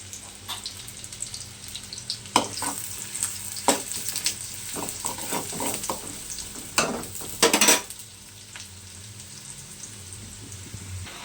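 Tomatoes go into hot oil for a Telangana-style chicken curry, crackling and sizzling with scattered sharp pops and stirring scrapes, loudest near the middle before settling to a softer steady fry, no speech.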